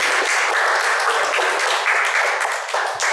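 Audience clapping during a guest-practitioner class session with Lazada Express, a dense, continuous wash of many hands at close range, loud and steady for a few seconds with no voices over it.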